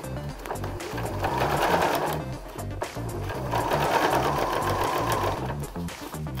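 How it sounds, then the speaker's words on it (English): A sewing machine stitches the 1.5 cm seam of a fabric drawstring bag, running steadily and loudly in two long bursts with a brief pause between, close up and with no talking. "Few stitch forward, few stitch backwards to tack, and then just start sewing."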